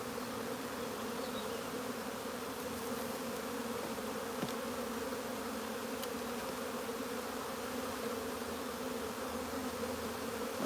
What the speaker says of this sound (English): Horrible bees. Killer bees.